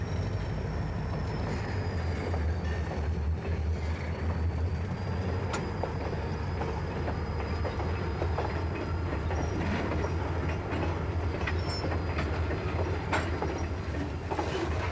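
A freight train hauled by a pair of GP40 diesel locomotives rumbles steadily past with deep low engine drone, metallic rail clatter and a thin high squeal running throughout, loud and continuous.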